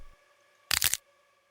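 Little pieces falling off a face, a single short, bright crackling burst that lasts about a third of a second and is set between near silence.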